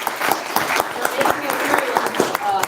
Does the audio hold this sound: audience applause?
yes